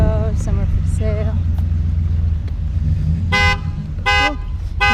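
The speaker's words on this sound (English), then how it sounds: "Oh, he set the alarm off." A car alarm goes off at an outdoor exotic car show in Palm Beach, Florida: loud, repeated electronic honking bursts over constant crowd chatter and the hum of the surroundings.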